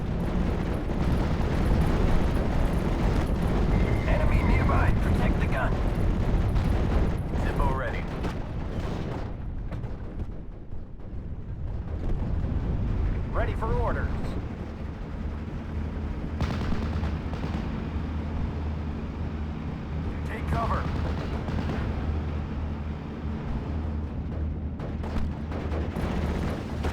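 Artillery guns firing in the Steel Division: Normandy 44 war game on a D-Day hedgerow battlefield, heavy booming blasts and rumbling fire dense early on, then thinning to scattered distant thuds over a low battle drone.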